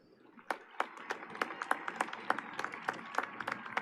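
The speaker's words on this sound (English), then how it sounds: "Please give them a round of applause." Scattered applause for seniors at the Hanks High School 2021 graduation ceremony, sparse individual claps popping out one after another at a moderate distance, fairly quiet and without talk.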